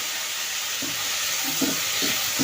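Leafy greens, organically grown, hit hot oil with spices in a pan, giving a steady bright sizzle with a few soft stirring scrapes near the end, close and continuous with no talking.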